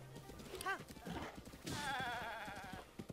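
A goat bleats in the Breath of the Wild game, a short wavering cry near the end, following brief chatter and hoof sounds.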